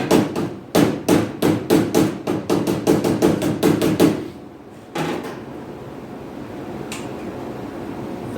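A hammer strikes sheet metal on the A-pillars of a Triumph Spitfire in a steady run of about twenty evenly spaced, close, ringing blows. A pause follows, then a single heavier hit and faint shop noise.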